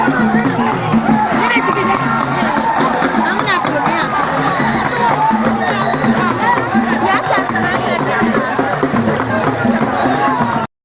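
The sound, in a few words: crowd of thousands of young people cheering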